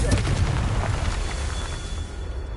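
A Confringo blast spell explodes in the Hogwarts Legacy video game, a heavy booming burst with a deep rumbling tail that slowly fades over a couple of seconds.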